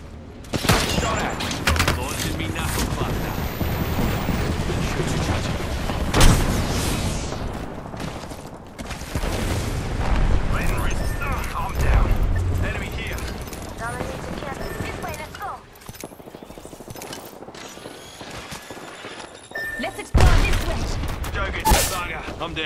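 Knuckle Cluster launches and bursts of gunfire in the Apex Legends video game, with dense repeated shots and booming impacts throughout, loud and busy, with a voice talking over the action.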